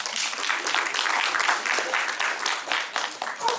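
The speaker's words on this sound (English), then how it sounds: "clap for me" Applause from a seminar audience during a sales speech, a dense steady wash of clapping throughout, with speech-like sounds mixed in.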